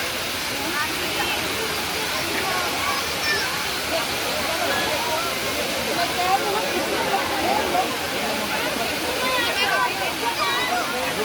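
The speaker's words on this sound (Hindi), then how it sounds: "मैंने आपको भी झरना दिखाया।" Steady, loud broadband rush of a waterfall at a crowded tourist spot, continuous throughout with no pauses.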